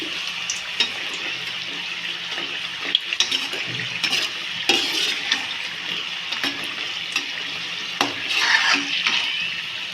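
Snacks fry in a pan with a continuous bubbling sizzle, broken by scattered clicks and scraping from stirring. The sound is close and fairly loud, with no voices.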